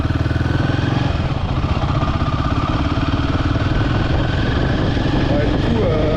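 Royal Enfield Himalayan 450 motorcycle running in during break-in on wet winter dirt tracks, its engine giving a steady, close, pulsing mid-pitched thrum throughout.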